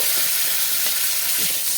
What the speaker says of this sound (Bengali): দিয়ে দিলাম পরিষ্কার করা ভালো করে ভেজে নেব